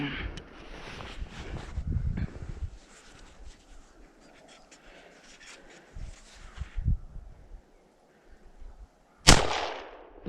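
A single loud, sharp rifle shot cracks out near the end of a whitetail deer hunt, sudden against quiet outdoor stillness after faint rustling and low handling noises.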